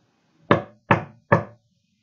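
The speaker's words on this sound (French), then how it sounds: "C'est le petit chaperon rouge qui frappe à la porte." Three firm knocks on a wooden door, evenly spaced and close, each with a short resonant decay, in an otherwise quiet room.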